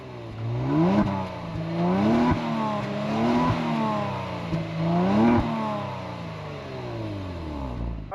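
A 2023 Kia Stinger GT2 engine and stock, fairly muffled exhaust revving repeatedly, several rising and falling blips heard close and alone before settling back to idle.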